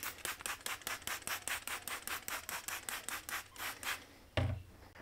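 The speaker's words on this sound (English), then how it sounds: "I'm going to really give that a really good scrubbing" A Scotch-Brite pad scrubs a MY99 WRX fog light lens coated with dish liquid in quick, even back-and-forth strokes, close and steady, ending in a brief heavier knock.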